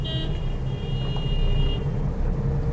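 Car traffic crossing a narrow, crowded bridge in a jam gives a steady, loud rumble of engines, with a sustained horn tone sounding in the first half.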